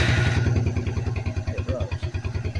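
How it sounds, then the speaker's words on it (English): A 1997 Suzuki 250 Quad Runner ATV, its starter freshly re-soldered, fires up with a key start and settles into a steady, rhythmic chugging idle, loud and close, with a faint clatter. "now whenever I turn the key on at the starter"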